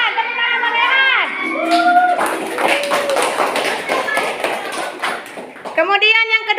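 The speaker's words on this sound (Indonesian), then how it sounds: "Tepuk tangan buat Rehan." Schoolchildren in a classroom applaud a classmate, with a burst of clapping and taps in the middle amid excited young voices and shouts.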